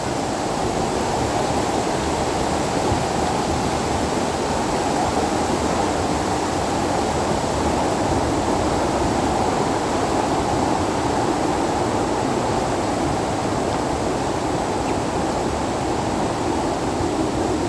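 The 70-foot Kongala waterfall in Mulugu District gives off a constant, even roar of falling water, dense and unbroken throughout with no voices.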